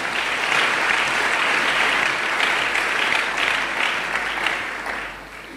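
A church congregation at a worship service claps together in a dense, sustained burst of applause that stays loud throughout and eases off slightly at the end.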